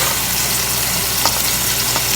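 Food sizzles and fries in a pan, cooked only halfway before ginger goes in, making a loud, steady crackling hiss with a couple of brief stirring scrapes.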